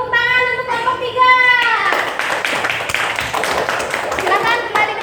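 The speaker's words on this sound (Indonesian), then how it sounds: "tepuk tangan untuk kelompok 3." Schoolchildren in a classroom clap for a group after a presentation, a loud burst of hand clapping that follows a sung or chanted children's phrase and carries on amid young voices.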